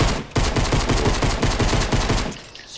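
Rapid automatic gunfire from a gun in Fortnite, a steady burst of closely spaced shots lasting a couple of seconds before cutting off, loud and close with no talk over it.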